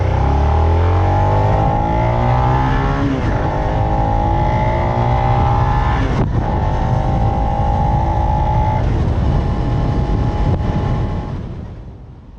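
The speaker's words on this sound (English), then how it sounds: "it's a joy to pull from a stop through the first 3 gears" A 2019 Suzuki SV650X motorcycle accelerates from a stop through its first gears, the loud, close engine note climbing and dropping at each shift, three clear shifts before it fades away at the end.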